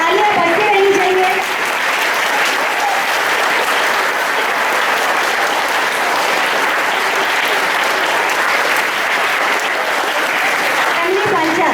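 Continuous audience applause at a school Hindi Bhasha Diwas celebration as student names are read out; dense, even clapping from a crowd, with a voice speaking over the start.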